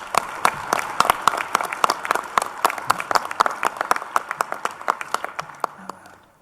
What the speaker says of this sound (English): may I request you to give a big round of applause for all the dignitaries on stage